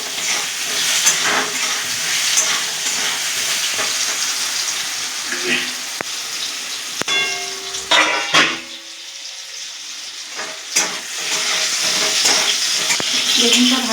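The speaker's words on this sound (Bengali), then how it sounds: "বেগুনটা ভাজা হয়ে গেছে, খুব বেশি ভাজবো না, হালকা করে ভাজবো" Brinjal fries lightly with a little sugar in a pan: a loud, continuous sizzle with sharp clinks and scrapes, briefly easing midway before the hiss returns.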